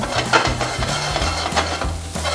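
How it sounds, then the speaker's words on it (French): Snails sautéing in a knob of butter in a pan, a steady close sizzle with repeated scraping and stirring strokes from a utensil moving them around. "le temps de faire revenir les escargots"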